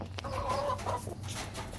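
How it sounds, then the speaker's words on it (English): Backyard chickens cluck softly in a short, faint burst of low clucks over a steady background hum, nearby but quiet. "Let's check on the other chickens."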